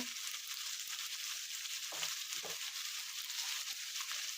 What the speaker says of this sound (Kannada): ಮೆಂತ್ಯಕಾಳು ಒಂದೆರಡು ಹುರ್ಕೊಳ್ಳೋದಕ್ಕೆ ಹಾಕ್ಕೊಳ್ಳಿ